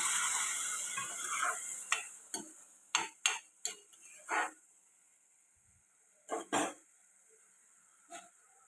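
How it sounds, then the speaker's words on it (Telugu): Tomato puree frying in a pan with ginger garlic paste for a dried fish curry: a soft sizzle early on, then sharp separate clinks and scrapes of a spoon stirring against the pot, with quiet gaps between. "టమాటా ప్యూరీ వేసుకున్నాం ఇది కూడా పచ్చివాసన పోయేదాకా ఫ్రై చేసుకుందాం"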